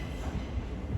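Thameslink train at a London terminus, a brief low rumbling of a train moving over the rails, close and steady.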